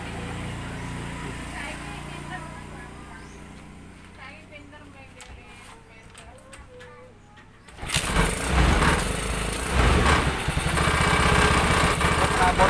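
A Jialing 200cc motorcycle engine, freshly upgraded, starts partway through after quiet handling noises and talk, then runs with a loud, rough, close rumble for the remaining seconds.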